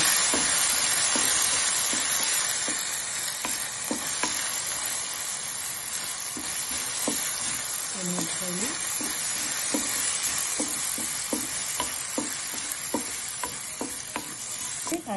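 Curry leaves dropped into hot oil for tempering peanut chutney, a loud continuous sizzle and crackle with repeated spoon taps and stirring clinks throughout.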